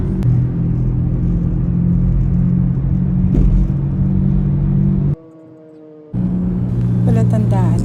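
Road traffic in Manila rumbles steadily, car engines droning close by, with a brief drop to quiet midway before the rumble returns; people talk over it.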